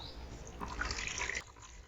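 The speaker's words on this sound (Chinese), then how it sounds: "现在这个状态是这样，这个水呢已经顺着这个排水口缓缓的流到下边来了" Water trickles gently from the outlet of a semi-automatic garden watering system, a soft continuous flow with faint splashing detail, close and quiet, with no talking.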